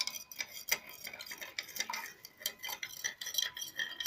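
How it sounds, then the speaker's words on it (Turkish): A spoon stirs water in a container during a buoyancy experiment, giving repeated light clinks and scraping against the sides in an irregular rhythm, fairly close and moderately quiet, with no talking. "Kaşığımızı şuraya koyalım. Şimdi karıştırıyoruz"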